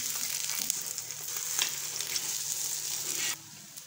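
Eggs frying in a pan and being flipped for a homemade burger, a bright steady sizzle with a couple of spatula scrapes, then the hiss drops sharply quieter near the end.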